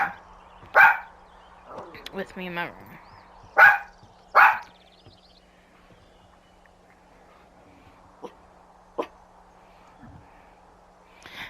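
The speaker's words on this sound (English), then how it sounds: "You were quiet, and all of a sudden you want to be barking." A pet dog barks in a room, several sharp separate barks spread across the stretch with quiet gaps between them, close by, alongside some brief talk.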